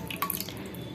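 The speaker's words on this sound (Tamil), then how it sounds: "டம்ளர் தண்ணி ஊற்றிருக்கேன்." Water pouring and splashing into a cooking pot while making thakkali amti, a tomato curry, heard as a short, close, wet burst that trails off quickly.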